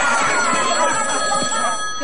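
A telephone rings with a continuous electronic trill filling the whole stretch, fairly loud and steady, set amid a television comedy show with faint background sounds.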